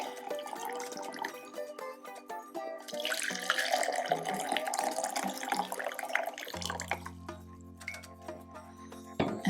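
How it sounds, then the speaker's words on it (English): Brewed rose cardamom tea poured into mugs, a close trickling, splashing pour with small clinks of ceramic, the stream steady for several seconds before a low hum takes over near the end. "Then fill your mugs about halfway full with the brewed"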